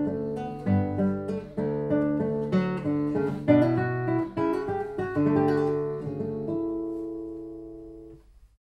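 Solo cello playing the jig (gigue) from Bach's Cello Suite No. 1 in a lively 6/8 dance rhythm, with clear bowed notes and staccato touches, close and full, ending on a sustained note with no talking.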